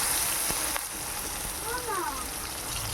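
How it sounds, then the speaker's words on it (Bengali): Ilish fish head and taro stalks frying gently on low heat in a pan with turmeric, giving a soft, steady sizzle that runs evenly through the whole stretch. "ভাজতে থাকছি।"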